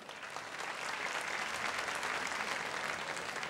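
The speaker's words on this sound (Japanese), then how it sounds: "拍手お願いします。" Sustained audience applause at a The King of Fighters Neowave team tournament, Tougeki '05 in Japan, a steady dense wash of clapping lasting several seconds with no talk over it.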